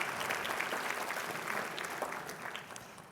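A small business finance forum audience gives a brief round of applause for a sponsor, a soft, distant wash of clapping lasting a few seconds.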